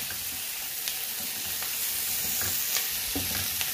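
Chicken pieces coated in soy sauce sizzle steadily in a pan for a Chicken Manchurian, with occasional scraping stirs breaking through the constant hiss; close and moderately loud, no talking.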